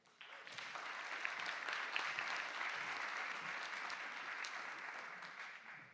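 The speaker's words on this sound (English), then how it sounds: "give him a big round of applause" An audience at a conservation finance event gives a big round of applause for an executive director, rising quickly and holding steady at moderate distance with scattered sharp claps, then easing off.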